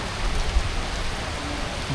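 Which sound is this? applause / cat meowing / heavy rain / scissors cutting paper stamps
heavy rain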